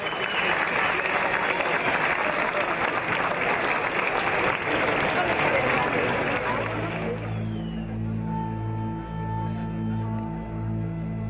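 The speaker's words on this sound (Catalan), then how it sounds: "Demanem un fortíssim aplaudiment per a Joan Femení Amàs, publicador d'honor" At the announcement of the 2022 Moors and Christians festival in Pego, a hall crowd gives loud, dense applause for about seven seconds before it cuts to sustained tonal music.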